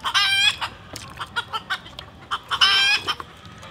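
Native chickens cluck in quick, sharp bursts outdoors, with two louder drawn-out squawking calls standing out near and clear against a quiet background.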